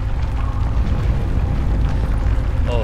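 Structure collapsing in the horror video game Amnesia: The Bunker, a continuous loud low rumble with dense booming and crumbling bursts throughout, a faint voice barely present underneath.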